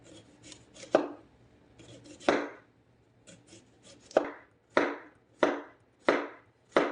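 A knife slices squash thinly on a cutting board, making a string of sharp, close chops: a couple of isolated cuts, then a steady run of evenly spaced strokes, with soft scraping between them and no speech.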